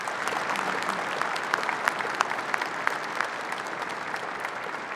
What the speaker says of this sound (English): How about a round of applause for the color guard?